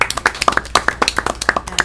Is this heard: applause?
yes